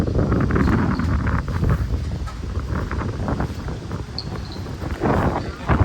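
Steady wind buffeting the microphone in cold, hilly Munnar, a constant low rumbling roar that persists throughout with slight gusts, no clear voices over it.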